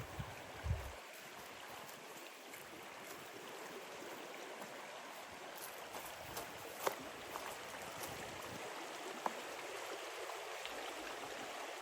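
Steady broadband rush of flowing river water, continuous and fairly soft, with a few faint clicks and knocks along the bank.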